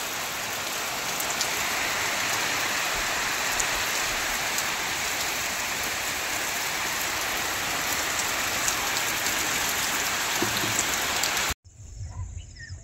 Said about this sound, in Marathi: गणपतीचा पहिलाच दिवस आहे आणि पाऊस बघा.